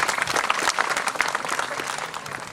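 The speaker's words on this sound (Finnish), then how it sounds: "Ystävät hyvät, aplodit Esa Lappalainen" An outdoor crowd at the Tiemassaari summer festival gives dense, steady applause to welcome a speaker, a brief, even wash of clapping with no voices on top.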